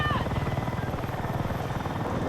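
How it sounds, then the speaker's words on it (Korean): A helicopter hovers close by in the video game Battlefield 6, its rotor thumping in a steady low pulse that fills the whole moment. "진짜 헬기 있음."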